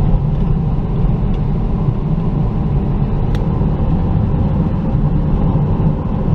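Cabin of a new car with a CVT transmission cruising, a steady loud low road and engine rumble with constant tyre noise and no change in pitch throughout.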